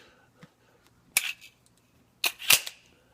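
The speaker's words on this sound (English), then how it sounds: "This thing, the mags just fly out of this." Dan Wesson Specialist Commander .45 pistol releasing its magazine, which drops free: two sharp metallic clacks about a second apart, close and crisp with no talk.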